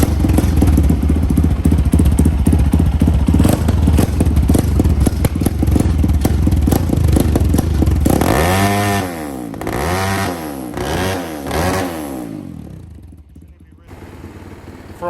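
A 1985 Honda ATC350X three-wheeler being ridden, its engine buzzing loud and steady, then revving in several rising and falling surges before easing off near the end.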